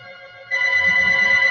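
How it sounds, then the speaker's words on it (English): A steady electronic telephone ring tone from a fax line sounds, growing louder partway through and holding a sustained warbling tone over a low rumble. "then you should hear the phone start ringing"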